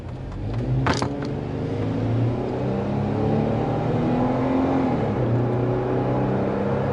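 A Jeep Wrangler Sahara JK Edition's 3.6-liter engine revs up and accelerates hard, a loud steady drone rising in pitch, heard close from inside the vehicle.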